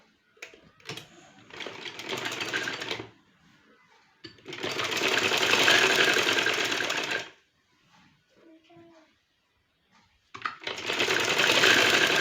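A sewing machine stitching a Capri trouser runs in three bursts of rapid, buzzing stitching, each a few seconds long, separated by quiet pauses with light handling sounds, close and clear.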